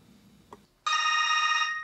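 A telephone bell rings once in a single sustained, bright trill that starts abruptly after a brief soft click and fades slightly toward the end.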